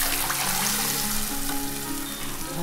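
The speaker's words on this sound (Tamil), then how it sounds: "இந்த ஸ்டேஜில் குழம்பு எடுத்து ஊற்றிடலாம்." Fish curry gravy for Tamil shark fish kuzhambu poured into sautéed onions and garlic in a hot pan, making a loud, steady sizzle and bubbling hiss throughout.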